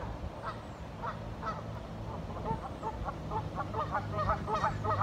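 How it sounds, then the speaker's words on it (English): Geese honk repeatedly at a moderate distance, a flock calling in overlapping bursts that grow busier toward the end over a low steady background rumble. "Geese."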